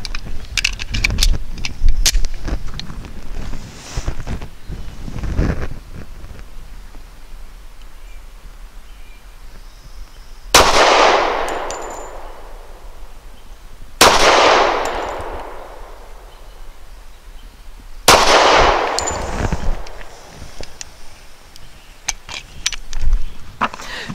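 Three sharp pistol shots from a Citadel Warbird 1911 firing Hornady Critical Defense 185 grain ammunition, spaced a few seconds apart outdoors, each with a ringing decay, after some earlier clanking and handling noise.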